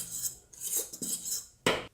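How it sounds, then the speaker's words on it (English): A fork scrapes and clinks against a bowl while mixing dry pizza dough ingredients with a teaspoon of salt, giving several short scratchy strokes and one sharper, louder clink near the end. "using a fork, I'm just going to mix all these ingredients up so far"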